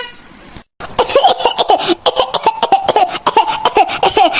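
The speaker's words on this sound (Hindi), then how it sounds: "बहुत है खांसी आवत है" A burst of repeated harsh coughs, close and loud, coming in quick rough bouts after a brief pause.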